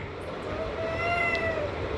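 A cat meows continuously in drawn-out, wavering cries, fairly close and steady over a soft background hum.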